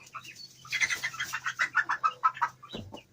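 Young Orpington chickens in a backyard flock cluck in a rapid, rhythmic run of close calls, with a low steady hum beneath.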